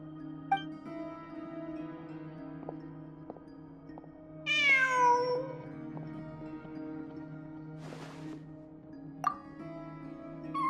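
A cat in Genshin Impact gives one clear, drawn-out meow midway through, heard over a steady low ambient hum, with a few faint clinks before and after.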